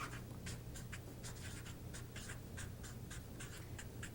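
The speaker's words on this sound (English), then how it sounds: "I'm printing the words for a couple reasons." A pen prints words on paper by hand, giving quick close scratchy strokes in short irregular bursts. Each word comes as a brief cluster with small gaps between.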